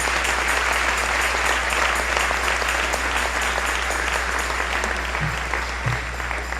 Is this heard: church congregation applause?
yes